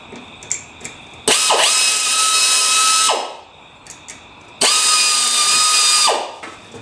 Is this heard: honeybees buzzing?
no